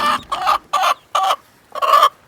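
Orpington chickens cluck in five loud, close bursts with short gaps between them, and no voices are heard.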